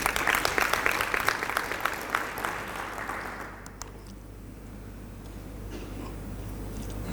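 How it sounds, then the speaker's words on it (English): Conference audience at a people-and-parks event applauds, a moderate patter of clapping that fades out after a few seconds into quiet room tone. "And I think that deserved a huge applause from all of us."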